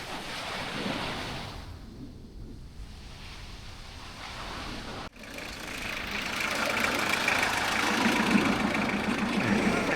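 A car drives toward Chaitén Volcano in Chile. A steady engine and road rumble fills the clip with a faint wind-like hiss, a brief jolt midway, and the drone swelling louder toward the end.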